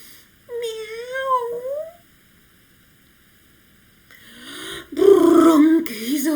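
A person imitates a cat with a drawn-out, wavering meow, then after a short silence makes a snoring sound. Both are loud and close.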